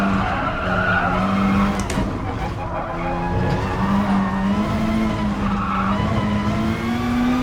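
A car in Gran Turismo Sport brakes into a corner, its tires squealing in a steady rising and falling whine over loud, continuous engine roar, close and sustained throughout.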